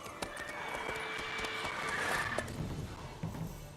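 A horse in The Witcher 3 neighs and trots, its whinny rising over steady hoofbeats and ambient game sounds, moderately loud and close.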